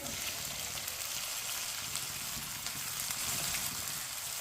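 Finely chopped tomatoes frying in a pan with ginger, a quiet, even sizzle that holds steady throughout, only a faint stir here and there and no voices.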